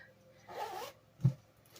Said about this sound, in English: I also got this little zipper bag